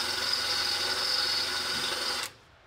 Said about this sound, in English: Drilling through this side and then letting it clean up the other side.